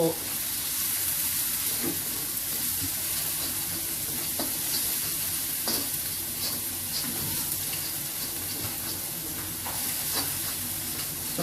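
Capsicum and carrot stir-fry in a hot pan for nasi goreng, a steady loud sizzle broken by repeated scrapes and knocks of the spatula against the pan.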